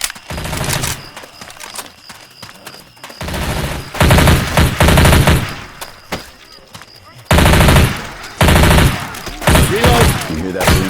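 Rapid automatic gunfire and bursts of shots from the zombie shooter game Left 4 Dead 2, loud and dense, coming in several heavy volleys separated by brief lulls with game noise.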